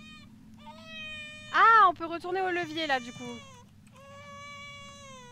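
A cat meows loudly and repeatedly in the middle, a cluster of wavering cries with a steady game music tone running throughout. Someone speaks French briefly.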